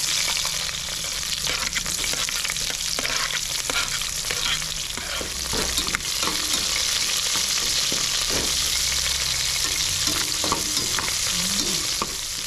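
Curry leaves and chopped onion crackle in hot oil with popped mustard seeds, giving a continuous close sizzle broken by the repeated scrape and knock of a stirring spoon.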